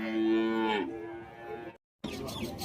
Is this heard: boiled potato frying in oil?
no